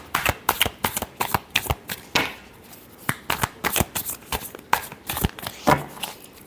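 Deck of cards shuffled by hand for a tarot reading, heard as close, crisp riffling bursts and slaps in quick irregular succession, with no talking.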